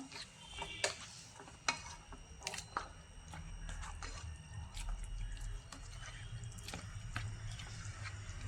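Cauliflower and potatoes stirred into a simmering Kerala-style curry in a pan: faint wet scraping and soft clinks of a spoon, with light sizzling and bubbling underneath, steady and close with no voices.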